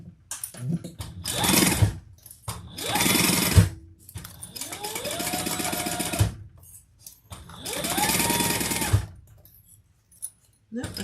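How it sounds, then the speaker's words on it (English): A sewing machine bastes fabric together in four separate bursts of stitching, each a few seconds long, with a rising motor whine, short pauses between runs and a voice speaking briefly. "Okay, let's sew this. Just baste it together."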